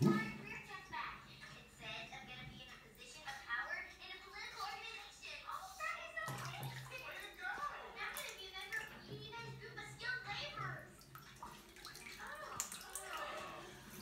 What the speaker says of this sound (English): I'm going to have a big bath now.